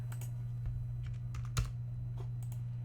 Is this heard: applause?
no